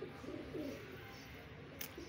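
Pigeons coo softly in low, repeated throaty phrases against a steady background hum, with no talking.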